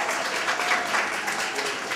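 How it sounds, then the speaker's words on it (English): Prize winners receive a dense, continuous burst of crowd applause at an African American organizations gathering, steady and fairly loud throughout. "So, round of applause"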